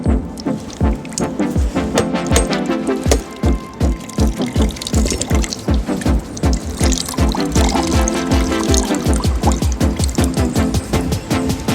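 Water gurgles out of a broken calabash in rapid rhythmic glugs, a close, steady pulsing pour.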